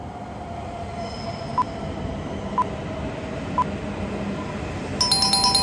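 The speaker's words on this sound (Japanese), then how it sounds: "この電車は北陸新幹線、輝き。" A Hokuriku Shinkansen Kagayaki bullet train pulls in with a steady rushing rumble, broken by three evenly spaced short tonal beeps and a brighter chime pattern near the end.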